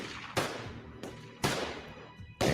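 Gunfire from a film playing in the background, four sharp separate shots at uneven intervals, each ringing out with a short echoing tail, fairly quiet and with no talk.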